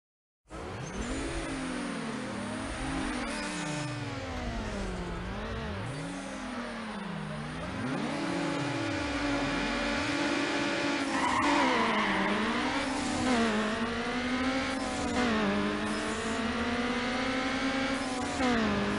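Acura RSX engine racing in Need for Speed Underground, revving up and down in sweeping pitch bends with tire squeals and skids, loud and close from start to finish.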